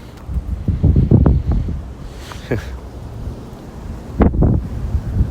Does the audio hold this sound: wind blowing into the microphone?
yes